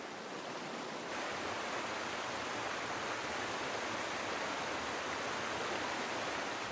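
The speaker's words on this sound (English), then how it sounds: "The torrent charges through the narrow gorges of the ranges, eroding the land" A torrent of floodwater rushes through narrow gorges in a mountain range, a loud, steady broadband roar that fills the whole clip without pause, with no voices.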